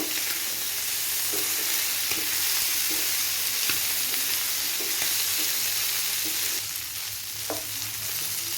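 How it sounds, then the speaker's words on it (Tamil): Prawns frying crisp in a hot pan, a steady loud sizzle with occasional clicks and scrapes from stirring, with no voices over it. "பாருங்கள் சூப்பராக ஃப்ரை ஆயிடுச்சு. நல்லா ஃப்ரை ஆகி வந்துடுச்சு"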